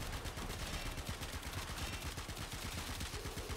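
Sustained rapid weapon fire in the sci-fi shooter Warframe, a dense, steady stream of loud repeated shots with no pauses, no talk over it.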